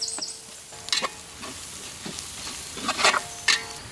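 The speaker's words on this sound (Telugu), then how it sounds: "ఇదంతా 2 నిమిషాలు బాగా వేయించుకోవాలి." Chilli powder, turmeric and garam masala frying in a pan for egg khuska rice, a low sizzle under several sharp, separate scrapes of a spoon stirring, with no talking.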